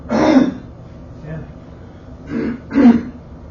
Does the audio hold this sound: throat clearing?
yes